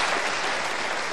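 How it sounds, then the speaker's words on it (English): Studio audience members at a comedy venue clap together in a short, dense burst of applause, steady and moderately loud, without any voices. "Applaud if you have been here before."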